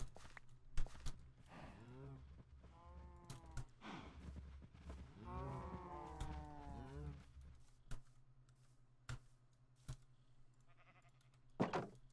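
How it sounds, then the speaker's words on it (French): Sheep bleat in Minecraft inside a small pen, brief calls scattered among clicks and game sounds while someone talks over much of it. "Et on a créé notre petit enclos à moutons."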